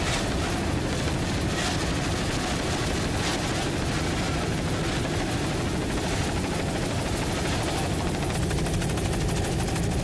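A helicopter flying over the 1996 Miami offshore grand prix, a powerboat race, gives a loud, steady, continuous rotor and engine drone for the whole stretch, with no talk over it.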